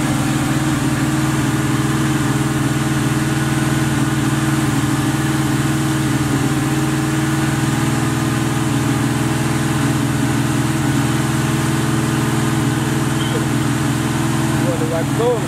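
Box Chevy Chevrolet car engine idling steadily with a low, continuous rumble that stays even and loud throughout, close by, with no talk over it.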